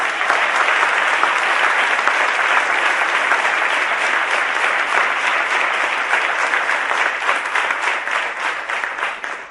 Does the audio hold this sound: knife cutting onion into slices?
no